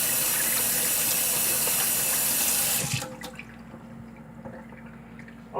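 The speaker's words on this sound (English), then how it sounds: "let me wash my hands so you people can see." Hands washed under a running kitchen tap before baking: a steady, loud rush of water for about three seconds, then the flow cuts off, leaving faint drips and small splashes.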